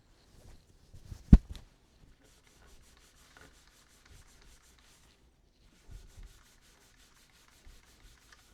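Guitar frets on an ESP LTD EC1000 being rubbed to lift off built-up grease, heard as faint, scattered scrubbing strokes with one sharper knock early on and quiet gaps between.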